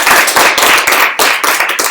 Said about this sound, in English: Please an applause for the fire.